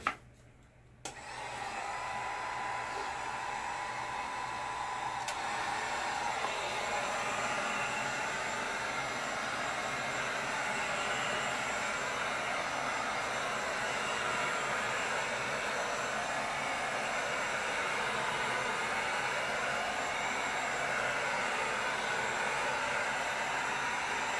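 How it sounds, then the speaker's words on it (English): Heat gun blowing hot air over wet acrylic pour paint, a steady loud whooshing roar that starts abruptly after a short click and holds continuously with no talk. "Actually, let me hit it with a heat gun first."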